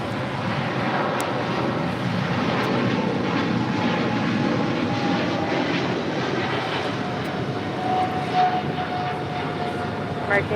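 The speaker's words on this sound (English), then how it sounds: "Cargo King 224 taking off to Shanghai on a 777 freighter" A Boeing 777 freighter takes off from LAX, its jet engines producing a steady, loud broadband roar that holds across the whole stretch, with faint radio chatter beneath.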